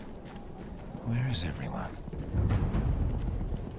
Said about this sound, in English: There's a horse, of course.